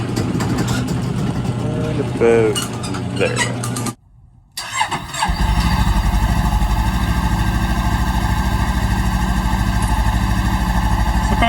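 A Honda CBR500R motorcycle with its stock exhaust cranks and fires up, then settles into a loud, steady, close idle. A voice speaks briefly before it starts.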